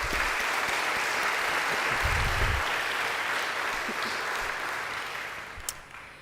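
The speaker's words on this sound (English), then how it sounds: "A big applause." At a Faculty of Health Sciences graduation ceremony for the Class of 2023, an audience applauds in a sustained, even wash of clapping that gradually thins and softens toward the end.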